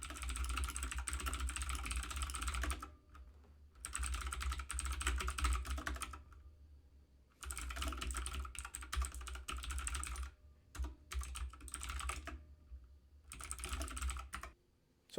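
Rapid clicking on a computer keyboard comes in bursts with brief pauses, close and fairly quiet, as someone writes an Ansible task.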